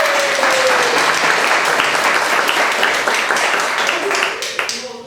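An audience at a theatre troupe's magic show applauds a volunteer, dense sustained clapping from a full room that thins and fades toward the end, with a voice briefly heard under it.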